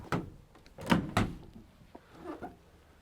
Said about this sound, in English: doors open 180 degrees.